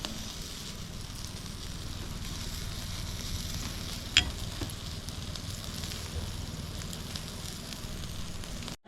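Barbecue sizzles and crackles over a strong fire outdoors on a Finnish summer day, a steady close hiss with one sharp pop midway and some wind rumble underneath.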